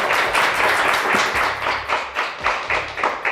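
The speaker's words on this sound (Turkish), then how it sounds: "Alkışlar Mert için." Applause from a TV game show studio audience, a dense wash of many hands clapping that swells and pulses for a few seconds, with no voices.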